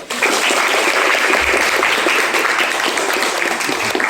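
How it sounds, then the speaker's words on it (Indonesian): Classroom applause from students in a class, a dense, steady burst of many hands clapping close by, sustained for several seconds with no talking. "Tepuk tangan, Pak."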